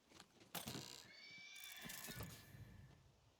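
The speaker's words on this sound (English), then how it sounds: "Why am I hearing horses?" Horses neighing in a video game: a couple of close, loud whinnies rising and falling over a steady ambient background, with no talk.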